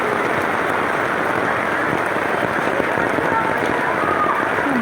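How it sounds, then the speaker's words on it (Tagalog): Heavy rain pours steadily during a flood, a dense, continuous roar of drops hammering surfaces close by, loud and unbroken throughout. "Lakas pa ng ulan."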